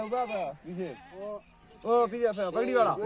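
Sheep from a herder's flock bleat loudly and close by, with several wavering, drawn-out calls overlapping one after another and a brief lull in the middle.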